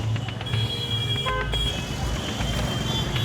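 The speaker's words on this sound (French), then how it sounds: "à Bombay, il n'y a pas de clignotant, mais il y a des klaxons" Car horns toot repeatedly in dense Bombay street traffic, with short honks over a loud, constant roar of engines and crowd noise.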